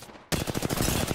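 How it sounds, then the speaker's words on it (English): Rapid automatic gunfire in a video game bursts in loudly after a short quiet lead-in, a dense rattling stream of shots with no talk over it. "Somebody's shooting me from behind."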